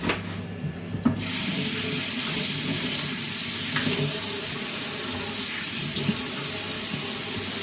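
Tap water runs steadily into a kitchen sink during dishwashing, a continuous broadband splashing rush that stays fairly loud throughout, with faint clinks of dishes and no talking.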